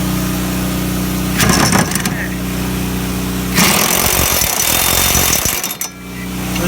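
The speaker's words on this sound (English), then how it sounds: "Put the impact gun on. Just give them a good tightening." Pneumatic impact gun rattling as it tightens the bolts on a lawn mower blade, two loud buzzing bursts of hammering, close and harsh, with a brief gap between them.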